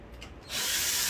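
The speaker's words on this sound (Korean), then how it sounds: "나사는 총 6개가 채워집니다." A power screwdriver fastens short screws into the front assembly of a Fuji Xerox ApeosPort V C4475 copier, giving a close, steady whirring buzz that kicks in halfway after a brief quieter moment.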